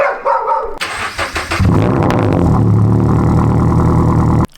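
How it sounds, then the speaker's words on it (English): A Toyota GR86 cold-starts: the starter cranks in a few quick bursts, then the engine catches with a loud flare and settles into a steady, rough idle before cutting off abruptly. "let's do a cold start."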